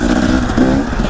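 A 2017 Husqvarna TE 250 enduro motorcycle engine runs loud and close in a brief burst, its buzzing two-stroke tone wavering as it revs.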